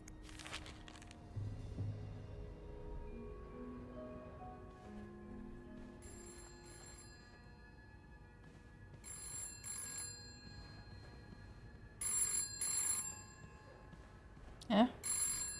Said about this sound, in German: Wo ist denn das Telefon?